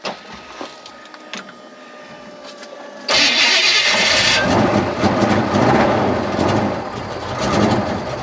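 A Ranger's engine cranks and catches after being turned over with a 3/8 socket out in Lockhart Basin, jumping from a low idle hum to a loud, steady running roar up close.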